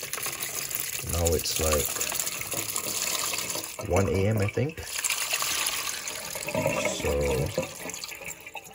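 Water pours and splashes steadily as it is given to pet roaches late at night, running under a man's speech that comes in short bursts.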